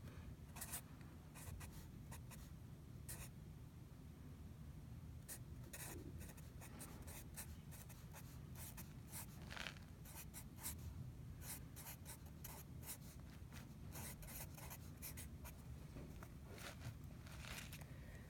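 Pen or pencil writing out a cosine law math problem, a steady close scratching with quick strokes and taps continuing throughout over a low room hum.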